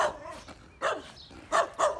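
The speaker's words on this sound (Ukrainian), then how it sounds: "є сусіди, собачка гавкає" A neighbours' dog barks outdoors at a rural property, three short, fairly distant barks spaced out over two seconds, over faint background noise.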